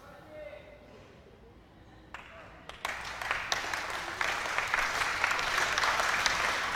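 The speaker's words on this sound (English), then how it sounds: "The claps start in this packed final hall." Applause rises in a packed final hall at an Asian airgun shooting championship, starting faintly and swelling after a few seconds into steady, fairly loud clapping from the audience, with a commentator speaking at the start.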